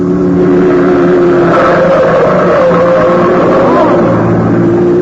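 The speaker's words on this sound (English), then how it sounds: "There's a car coming right through that red light." A car roaring through a red light at a city intersection, a loud sustained engine drone with rising revs filling the scene, close and dominant throughout with no clear break.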